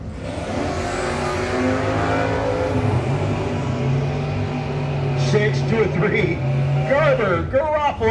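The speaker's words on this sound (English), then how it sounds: "Garofalo's 72 Nova coming against a big bad Buick" A 1972 Nova and a Buick drag racing cars launch at a no-box 660 shootout, engines roaring loud and sustained with a rising rev, while an announcer talks over the noise near the end.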